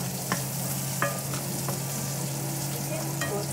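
Garlic fries in a pan with a steady, close sizzle while a utensil stirs it, making a few scraping knocks against the pan over the constant hiss.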